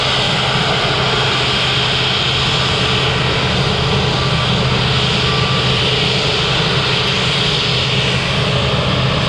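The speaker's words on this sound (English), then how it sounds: "got a Cathay Pacific Airbus A350-900 going to Hong Kong" Steady, loud roar of a Cathay Pacific Airbus A350-900 jet at Manchester Airport, a broad continuous engine rumble holding level throughout with no voices.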